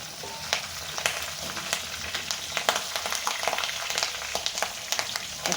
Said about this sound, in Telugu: ఇప్పుడు కరివేపాకు కూడా ఇందులోనే వేసుకుందామండి. చిట్టుపట్లాడుతుంది.